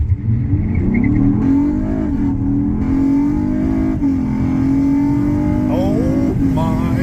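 An Acura RLX Hybrid fitted with a cold air intake accelerates hard, heard from inside the cabin with the windows cracked, a loud engine drone whose pitch climbs, dips with shifts and climbs again over seven seconds.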